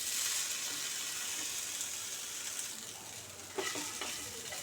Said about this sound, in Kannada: ರಾಗಿ ಉಂಡೆ ಎಲ್ಲ ಹಾಕಿ ನಿಧಾನಕ್ಕೆ ಮಿಕ್ಸ್ ಮಾಡಿ.